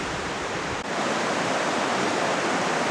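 East Fork Quinault River rushing past O'Neill Creek Camp in Olympic National Park, a steady broadband roar of flowing water that stays loud and unbroken throughout.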